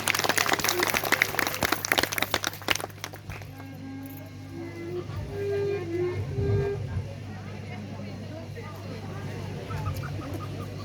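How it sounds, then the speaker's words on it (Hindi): At a Ramlila stage event, a crowd breaks into brisk, dense clapping for roughly the first three seconds before it stops abruptly, leaving quieter background sounds with scattered tonal calls. "मैडम चलिए मंच में एक बार जरा तालियां बजा दीजिए"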